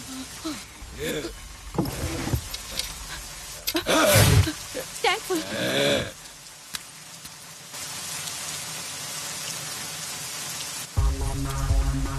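Heavy rain patters steadily on a surface in a Telugu film scene, with a voice talking in bursts over it and mechanical sounds in between.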